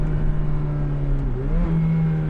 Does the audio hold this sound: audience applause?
no